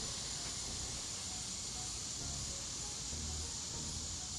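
A fine water mist sprays onto a dry-poured concrete sidewalk laid over an existing narrow walk, producing a steady, even hiss that runs unbroken and fairly faint throughout.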